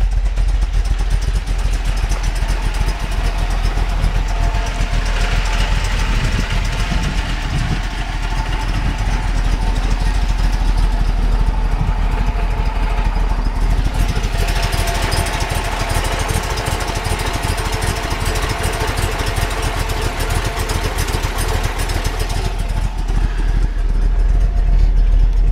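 A 1970 Plymouth Cuda with a 440 Six Pack V8 idles at a steady low rumble for a long stretch as it warms up, close and constant, with slight shifts in tone, no speech.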